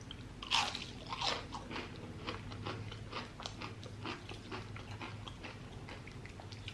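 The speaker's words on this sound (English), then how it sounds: "So use onion rings a little bit here." Someone bites and chews crunchy onion rings up close, with crisp crunches at first that settle into softer, repeated chewing, quiet and with no talk.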